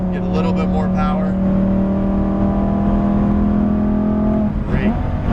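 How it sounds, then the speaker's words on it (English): A 2018 Lamborghini Huracan Performante engine holds a steady, loud, high-revving drone on track throughout, a voice talking over it. "You can rev that car up a little bit higher too, get a little bit more power."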